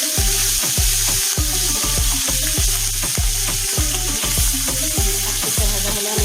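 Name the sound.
hilsa fish frying in hot oil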